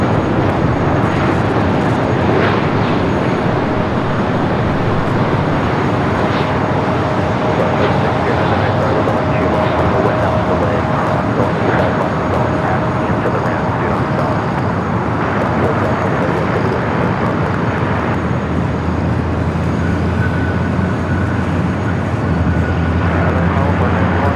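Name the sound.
Hawaiian Airlines Airbus A330 at LAX airport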